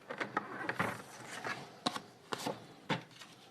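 Scissors snip through the paper base of a pop-up surprise pouch, giving several short, crisp cuts at uneven intervals, close and fairly quiet.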